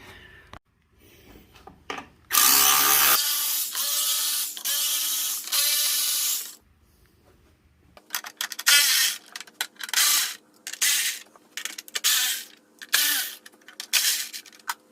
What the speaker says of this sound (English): You don't need to take these shroud bolts all the way out. You can just loosen them